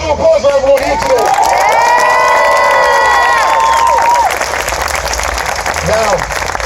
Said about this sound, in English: Round of applause for everyone here today.